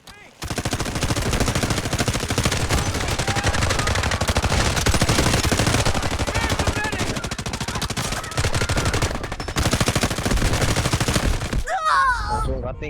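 Sustained automatic rifle fire from an M4A1 in the Delta Force shooter game, with dense, rapid bursts running loud and continuous for most of the stretch before cutting off near the end.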